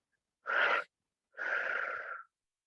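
Two breaths are pushed out through the mouth, close and airy: a short puff followed after a pause by a longer, steady exhale, with silence around them.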